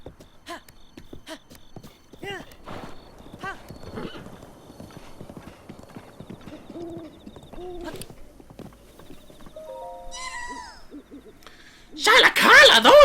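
Horse hoofbeats clip-clop in Breath of the Wild, a string of steady galloping steps under a player's occasional voice, followed by a bright whinny and then a sudden loud burst of game sound.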